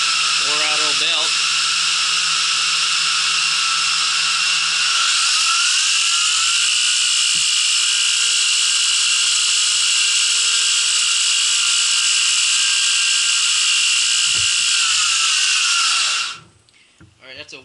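A 2x72 inch knife grinder with an aluminum frame runs on a worn-out belt, giving a loud, steady high whine with motor hum that holds evenly, then cuts off abruptly near the end.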